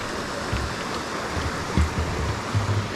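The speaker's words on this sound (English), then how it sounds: "this is Little Edith Creek that feeds Myrtle Falls." Little Edith Creek, the stream feeding Myrtle Falls, gives a steady broadband wash of flowing water close by, with faint low thumps of footsteps or movement over a bridge, no voices.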